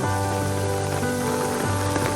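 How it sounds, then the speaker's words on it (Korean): A sudden rain shower pours down on a Barcelona city street at night, a loud, steady, dense hiss of rain striking surfaces and umbrellas that fills the whole moment with no break. "갑자기 이렇게 소나기가 나서."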